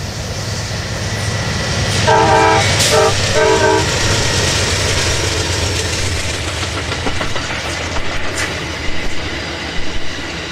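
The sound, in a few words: Amtrak Starlight passenger train running, horn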